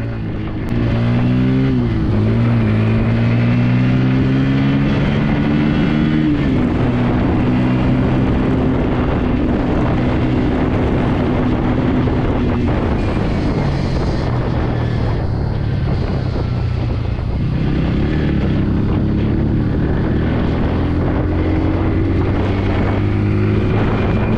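A Bajaj Pulsar N160 motorcycle ridden hard over an uneven road, engine droning loudly at high revs with rising and falling pitch through gear changes, all under heavy wind rush against the microphone.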